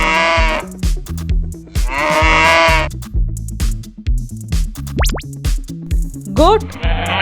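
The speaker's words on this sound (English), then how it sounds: "Cow." A cow's drawn-out lowing comes through in two or three loud, sustained calls over a bouncy background melody, with farm-animal sounds mixed in and no speech.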